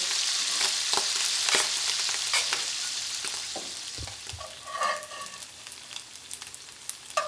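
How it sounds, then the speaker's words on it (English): Rice pops and sizzles in a cast iron pan for a Loco Moco burger, a busy frying crackle with sharp stirring scrapes and clatters, loud and close, fading toward scattered pops. "That rice is popping."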